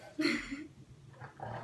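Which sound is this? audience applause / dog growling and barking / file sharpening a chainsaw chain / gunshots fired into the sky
dog growling and barking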